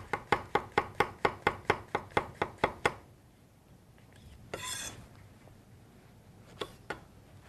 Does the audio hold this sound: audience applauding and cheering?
no